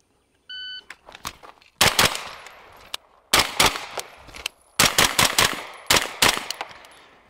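Rifle gunfire, ten rounds fired at five targets during a shooting drill with a sling in vehicle storage mode: sharp, loud shots in quick pairs and clusters with brief pauses between, plus a short electronic beep at the start.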